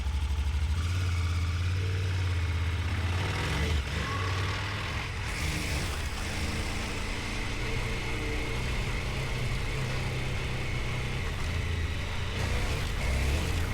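A motorcycle engine drones steadily on a ride, a close, continuous mid-pitched hum with a low rumble underneath and brief swells of wind and road noise.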